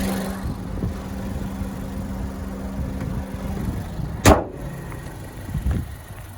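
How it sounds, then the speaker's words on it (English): A 2018 Honda CR-V EX-L four-cylinder engine idles smoothly and steadily, then a single sharp thud as the hood slams shut, followed by a softer knock. "Running smooth. Go ahead and put the hood down and take it for a tour."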